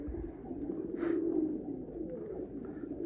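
Pigeons coo softly in a steady low murmur at a loft where birds are kept and flown, with a brief brighter call rising near the middle.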